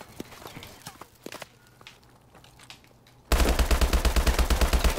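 Rapid automatic assault rifle fire from an HBR in Call of Duty breaks out loud and steady after a quiet stretch of sparse shots and footsteps, continuing as a dense rhythmic burst to the end.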